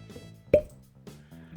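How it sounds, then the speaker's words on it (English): A cork pops from a bourbon whiskey bottle, giving one short, fairly loud plop near the middle, with quiet room sound and faint voice-like murmur around it. "So let's do a cork pop on the way out."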